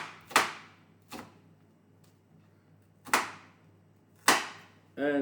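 Knife dicing onions on a board, four sharp separate chops at uneven spacing, each crisp and close, with a brief extra knock at the end.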